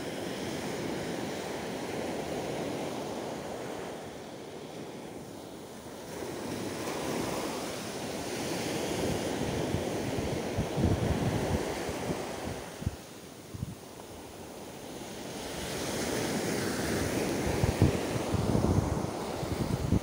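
Ocean waves surge and break in repeated swells, mixed with gusty wind buffeting the microphone, loud and continuous with no voices.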